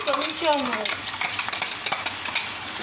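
Ground spice paste for a fish curry sizzles in a hot pan while being stirred, scraping strokes early on over a steady frying crackle, close and fairly loud.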